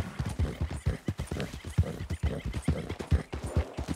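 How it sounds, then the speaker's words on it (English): A horse in Red Dead Redemption 2 snorts and whinnies while its hooves clop in a quick, uneven rhythm, loud and close with no talk over it. "my poor horse is like, sounds like they're struggling"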